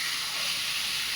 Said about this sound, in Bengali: পাপড় ভাজা হয়ে গেছে?